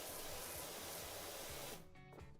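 A pressure washer in PowerWash Simulator sprays a steady broadband hiss, fairly loud and continuous, then drops off near the end to a quieter sputter.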